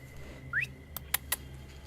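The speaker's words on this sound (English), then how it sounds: "An eerie tune plays through the phone." A short, eerie electronic tune plays through a phone: a single rising whistle-like tone followed by three sharp clicks, all within about a second, fairly quiet and without speech.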